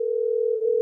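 A steady telephone dial tone while a call is placed, one unbroken pure hum held for under a second, loud and close with nothing else audible.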